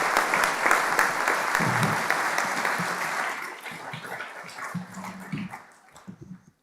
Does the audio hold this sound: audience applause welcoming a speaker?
yes